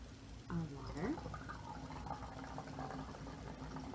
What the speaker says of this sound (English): I'm going to pour our water.